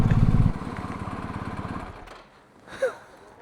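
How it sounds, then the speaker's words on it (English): A BMW R1250GS Rallye motorcycle engine runs close by with a steady pulsing idle that grows quieter and then stops, followed by a short faint squeak. "Are you frightened to switch that bike off or something?"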